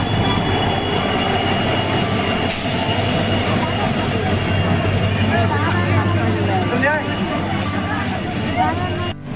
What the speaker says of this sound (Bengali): এই যে আমাদের ট্রেন শিলিগুড়ি ইন্টারসিটি এক্সপ্রেস চলে এসছে